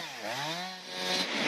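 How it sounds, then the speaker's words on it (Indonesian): A chainsaw cuts through a tree trunk washed up on a coastal shore near homes, run by a search-and-rescue team. The engine is loud and close, its pitch dipping and then climbing again as it revs steadily through the wood. "Tim SAR gabungan melakukan evakuasi dengan memotongnya menggunakan gergaji"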